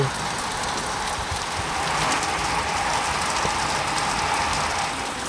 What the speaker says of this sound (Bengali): মুষলধারে বৃষ্টি পড়ছে বন্ধুরা